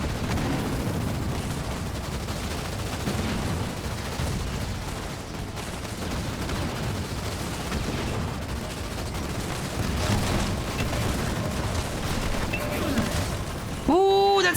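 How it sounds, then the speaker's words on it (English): Mag blast explosions from a Halo Wars 2 match, heard as dense, continuous rumbling blasts and gunfire-like crackle that stay loud throughout, with a sharp new burst near the end. "that's a good mag blast!"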